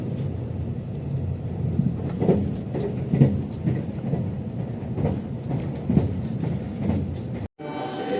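Inside a moving JR Limited Express train in Japan, a steady low rumble runs with rhythmic clacking of wheels over rail joints, and faint voices underneath.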